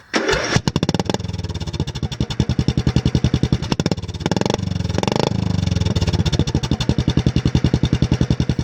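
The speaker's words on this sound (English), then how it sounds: "It gives it that kind of four-wheeler sound where it's like a pop, pop," A mud mower's small engine idles and revs with a rapid, rhythmic popping exhaust, loud and close, with a couple of brief surges in the middle.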